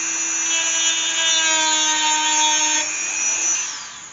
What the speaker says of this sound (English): I lay that Dremel down rather than trying to cut with a point